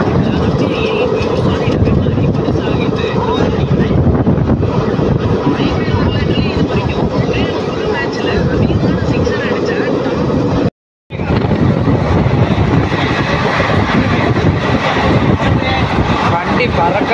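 Passenger train running at high speed on the line from Dindigul to Tiruchendur, a loud continuous roaring rush of wind and rolling wheels heard from on board, broken by one abrupt second of silence.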